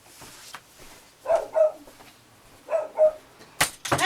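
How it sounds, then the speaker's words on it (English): Dogs bark indoors in two short double bursts, moderately close, followed by a sharper yelp near the end, with no talking over them. "I have to go yell at my dogs"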